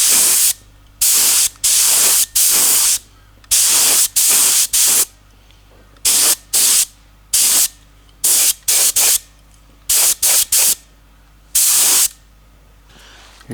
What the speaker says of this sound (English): Now the first coat of clear will be quite a thin coat, just to create a sticky tape type effect.